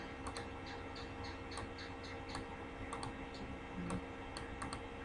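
Keyboard typing while a document is being edited, with quick irregular key clicks in short bursts over a steady low hum, fairly faint and close.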